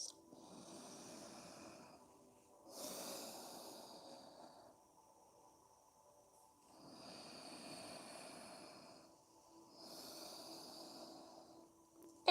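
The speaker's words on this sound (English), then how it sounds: "Take long, deep breaths." Long, deep breaths during yoga, four slow airy cycles of inhaling and exhaling with quiet gaps between, close and soft with no talk.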